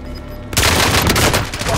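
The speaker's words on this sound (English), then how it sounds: "Somebody shooting us on the side there." Sustained heavy gunfire in Call of Duty: Modern Warfare, a dense, loud barrage of overlapping shots erupting suddenly after a quiet moment and continuing close by.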